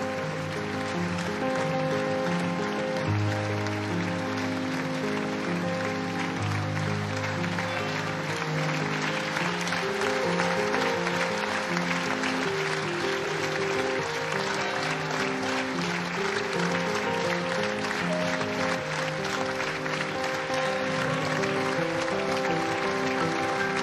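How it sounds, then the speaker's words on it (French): Crowd applause rolls on steadily outside a funeral for Jean-Pierre Pernaut as the coffin is carried out, a dense sustained clatter of many hands with music-like tones beneath. "les applaudissements au moment de la sortie de ce cercueil"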